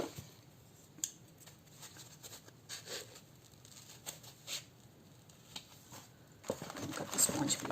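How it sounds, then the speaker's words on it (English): Scissors snip through a sponge cut to size for a canvas toran craft, giving faint, sparse snips close by against a quiet room, followed by louder rustling handling toward the end. "the sponge, I think this is big, I'm just going to cut it."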